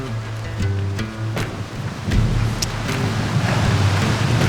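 Wind blowing on a steep mountain hiking trail in the morning, a loud, continuous rushing roar that swells and gusts, with a few brief knocks or thumps early on and no voices.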